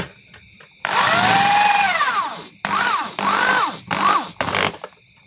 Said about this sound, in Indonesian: Ini saya bor menggunakan nomor ukuran 9 bornya